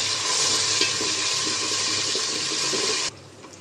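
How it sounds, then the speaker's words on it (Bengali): Ginger garlic paste frying with onions in a pan gives a steady, loud, watery hiss that holds evenly for about three seconds before cutting off abruptly, with no talking. "আদা রসুনটা ভেজে নিয়েছি।"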